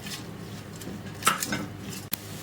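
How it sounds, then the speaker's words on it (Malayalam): Chopped onion sautés quietly in a pan for a paneer butter masala, a soft steady sizzle broken by a couple of light utensil scrapes and one sharp tap against the pan. "ഇനി ഇതൊന്ന് നല്ലതായിട്ട് വഴറ്റിയെടുക്കാം"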